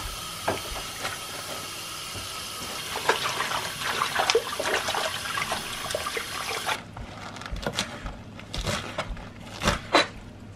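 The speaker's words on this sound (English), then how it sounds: "I'm gonna toss these greens into the sink." Greens washed under running water in a kitchen sink, a steady hiss of flowing water that stops partway, followed by a few splashes and drips up close.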